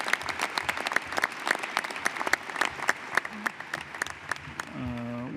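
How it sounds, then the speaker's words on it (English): Applause from the audience at a National Space Council meeting for the distinguished panels, steady and moderately loud with dense clapping throughout, and a voice rising briefly near the end. "Could we give another round of applause to the distinguished panels that presented today?"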